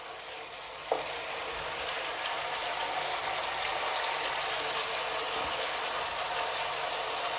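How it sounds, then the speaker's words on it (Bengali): Spices frying in hot oil for chole masala, a steady dense sizzle that starts with a small clatter near the beginning and then holds evenly, close and fairly loud, with no voices. "এখানে তেলের মধ্যেই মশলাগুলোকে কষাবো"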